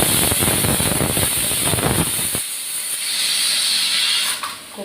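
A pressure cooker cooking plain white rice vents steam in a loud, continuous hiss, rough and rumbling at first, then smoothing into a steady high jet before tapering off near the end.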